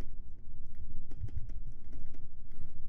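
Close keystrokes on a computer keyboard come as a steady, busy run of taps and clacks while data is entered into business software, with no voices.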